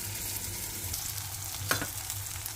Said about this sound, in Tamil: வெங்காயம் தக்காளி நல்லா வதங்கிடுச்சு